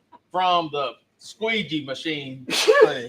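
Someone talks, then sneezes once, a sudden sharp burst close to the mic right at the end of his speech.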